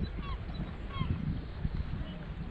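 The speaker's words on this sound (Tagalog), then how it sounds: "Ang tatak Canada goose. Dami ibon dun, oh." Canada geese honk several times from a flock outdoors, their short nasal calls fairly distant over a low rumbling background.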